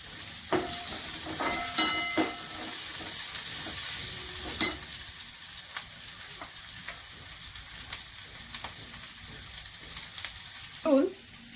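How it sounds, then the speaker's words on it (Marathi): Sliced onion fries in a kadhai for a Konkani cashew usal, a soft steady sizzle broken by scraping stirs and occasional clinks, close and moderately quiet, no voices. "हा उभा चिरलेला कांदा आता एकदम लाल बुंद करून घ्यायचा एवढा तो परतायचा छान"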